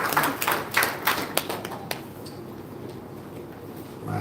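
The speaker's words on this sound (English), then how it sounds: "Let's clap again to the organizers." An audience at a Muslim youth conference gives a short round of clapping, a few sharp claps in the first two seconds that quickly die away to quiet room tone.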